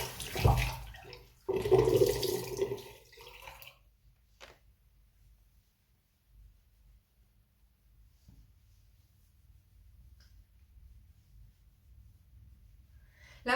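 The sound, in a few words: rinsing a towel with cold tap water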